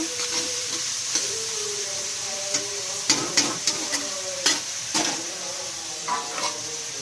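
Vegetables frying in a pan with turmeric while being stirred for pasta, a loud continuous sizzle broken by repeated clinks and scrapes of a spatula, close and busy.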